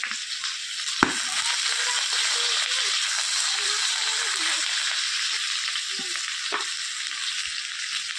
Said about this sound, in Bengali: হালকা আঁচে ভাজতে হবে আলুটাকে